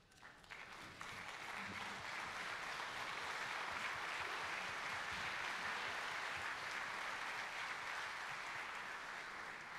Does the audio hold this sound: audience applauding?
yes